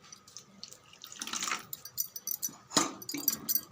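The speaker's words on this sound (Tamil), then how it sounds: "இன்னும் கொஞ்சம் தண்ணி விட்டுடலாம்." Water is poured into rava dosa batter in a kitchen, a close splashing trickle in short bursts with soft stirring and clinking between pours.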